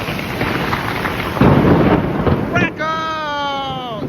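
Thunder rolls through a severe Midtown Manhattan thunderstorm, a loud, broad rumble over heavy rain before a voice calls out near the end.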